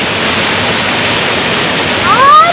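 Water rushes steadily in a stream or waterfall in Darjeeling, a loud, close, continuous broadband roar, with a brief high voice-like sound near the end.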